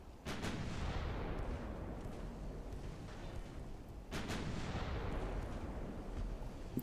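Naval gunfire in the warship game Ultimate Admiral: Dreadnoughts, two heavy booming shots several seconds apart, each followed by a long rumbling decay, loud and without talk.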